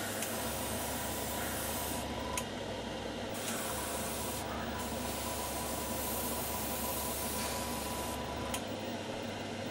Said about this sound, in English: you can hear it's quite hard to detect the noise of the compressor above the extractor